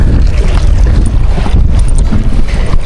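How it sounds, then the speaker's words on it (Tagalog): Steady wind buffets an open boat on choppy water, with the dense, roaring rush of wind noise and wave churn holding at a near, loud level throughout, with no voices. "kasi mahangin"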